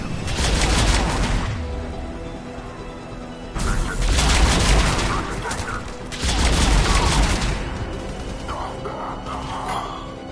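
Gunfire in a Mass Effect 3 battle at a checkpoint, bursts of rapid shots and booms in three heavy waves with brief lulls, loud and dense, with voices mixed in.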